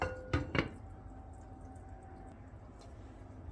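A lid set down on a pot of simmering chickpea and chicken stew gives two quick, close metallic clinks, then only a low, steady kitchen hum remains.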